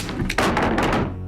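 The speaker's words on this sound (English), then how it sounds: "Another great thud on the door takes it off its hinges" A heavy thud as monsters strike a door in an audio drama, a couple of dull booming impacts close up within about a second.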